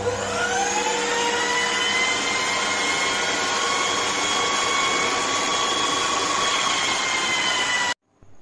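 An electric drill machine runs as a generator with a steady, high motor whine whose tones glide upward as it spins up, holding loud and even before cutting off abruptly at the end.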